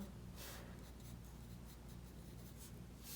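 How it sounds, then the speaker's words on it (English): A pencil shades on paper for a hot chocolate drawing with marshmallows, giving a continuous, soft scratchy rubbing with small rhythmic strokes, close and quiet. "I just added a slight shading with the pencil."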